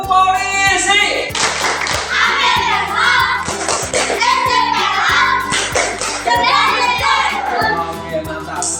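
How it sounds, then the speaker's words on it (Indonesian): Children in a classroom perform a rhythmic clapping game, with steady, loud rounds of hand claps and taps under continuous chanting voices and classroom chatter throughout. "Oke, kita tepuk polisi."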